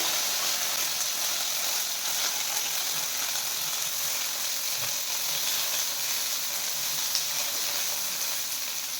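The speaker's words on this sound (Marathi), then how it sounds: "तेल छान गरम झालं की त्यामध्ये आता आपण जी धुवून घेतलेली वांगी आहेत ती यामध्ये 4 ते 5 मिनिटे छान तेलामध्ये परतून घ्यायची आहे" Washed brinjal fries in hot oil over medium heat, giving a continuous, even sizzling hiss with no talking.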